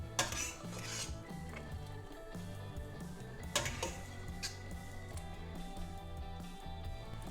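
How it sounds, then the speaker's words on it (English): Pasta tossed and stirred into a pan of zucchini and bacon for an Italian dish, with metal clinks of utensil on pan, scraping and clattering in an irregular rhythm up close over a steady low background tone. "Let's put our pasta in the zucchini pan."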